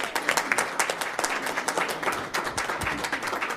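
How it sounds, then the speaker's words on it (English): Round of applause from an audience at a hospital board of managers meeting, recognising an award-winning team: dense, steady crowd clapping sustained throughout at moderate distance. "if we can recognize the Invasive Labs team and Bobby Coleman, who's there, with a round of applause"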